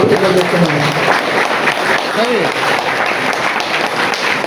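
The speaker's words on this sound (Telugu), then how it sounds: "వారందరికీ మరొకసారి మీరందరూ చప్పట్ల ద్వారా స్వాగతాన్ని" An audience claps to welcome farmers visiting a small village, steady continuous applause throughout, with a voice carrying over the clapping.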